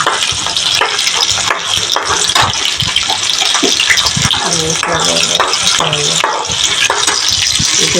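Ginger, onion and dried red chillies fry in a pan for tomato chutney, giving a loud, continuous hiss and sizzle with occasional stirring scrapes, close up and unbroken.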